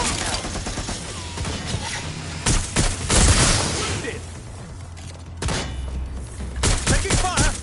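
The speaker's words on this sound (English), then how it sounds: "Taking fire!" Watch Dogs Legion gameplay gunfire, loud repeated bursts of shots and impacts across several seconds, close and dense, with game voices speaking amid the shooting.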